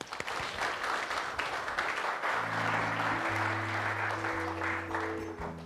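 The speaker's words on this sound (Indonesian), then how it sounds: "Tepuk tangan dong buat Rian." Audience applause for a performer named Rian on an Indonesian comedy show, a steady wash of clapping throughout, joined midway by sustained low musical tones underneath.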